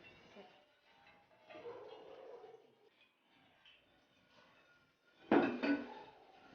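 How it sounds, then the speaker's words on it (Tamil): A metal cooking pot clanks down briefly with a clattering knock, then oil is poured in for fish biryani, with faint kitchen rustling; a quiet voice talks earlier on. "பாத்திரம் வச்சுட்டு எண்ணெய் கொஞ்சம் ஊற்றிக்கலாம்."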